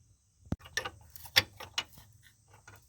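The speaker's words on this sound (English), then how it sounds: "Taking the open end half of the wrench that I cut, using it to get in here, get this thing turned out slowly." A cut-down open-end wrench slowly turns out an airbag bolt inside a car, producing a short series of close, sharp metallic clicks and scrapes at an irregular pace over near silence.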